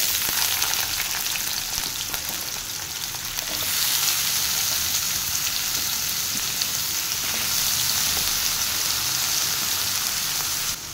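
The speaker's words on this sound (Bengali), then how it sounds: "এরপর এর মধ্যে ছোট ছোট কাটা আলুগুলো একটু ভেজে নেব।" Small cut potatoes fry in hot oil seasoned with nigella seeds, giving a steady, close sizzle and crackle that carries on alone the whole time without talk.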